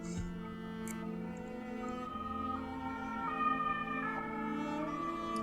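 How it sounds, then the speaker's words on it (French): Ambulance siren passing by, its tones sliding and shifting in pitch with the Doppler effect as it goes, moderately loud over steady background hum, with no talk. "On attend que l'ambulance soit passée."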